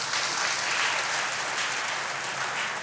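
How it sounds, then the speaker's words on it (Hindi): A crowd at a religious darbar gathering claps steadily for Karas Maharaj, an even wash of applause that stays full and close throughout with no voices on top. "ताली बजा दीजिए कारस महाराज को"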